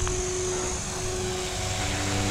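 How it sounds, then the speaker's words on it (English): A radio-controlled helicopter lifts off and hovers with a continuous, loud, steady rotor and motor whine, an even droning hum with no talk over it. "Gee, the helicopter is now hovering stable."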